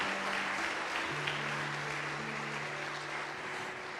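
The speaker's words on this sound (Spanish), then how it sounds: "Démosle un aplauso al Señor por el gozo que nos da" A church congregation applauds after a sermon, a steady, fairly distant wash of many hands with sustained organ or keyboard tones humming beneath the clapping throughout.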